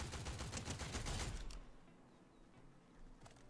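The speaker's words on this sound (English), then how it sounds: "Yeah, somebody was shooting at me." Rapid bursts of gunfire in Fortnite crackle loudly for about a second and a half, then cut off, leaving quiet background with a faint later shot.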